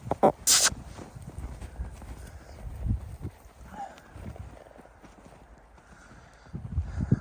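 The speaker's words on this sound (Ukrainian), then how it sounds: "Повільні такі коні" Brabant draft horse hooves clop slowly and unevenly at a distance, with scattered thuds and faint background noise.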